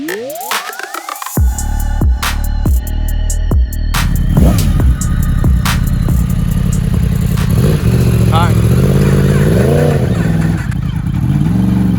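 A 2016 Yamaha R1M sport motorcycle engine starts with a rising whine, then revs hard and roars loudly up and down through the gears, close and continuous.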